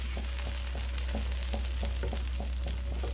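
French toast frying in a pan, made with or without egg, giving a steady close sizzle with a constant crackling hiss and small regular pops throughout, no voices.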